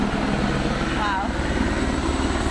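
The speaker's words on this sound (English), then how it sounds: "And now we have a helicopter." A helicopter passes over an outdoor conference in Michigan, its steady broadband rumble and low throb filling the whole stretch at a fairly loud, constant level.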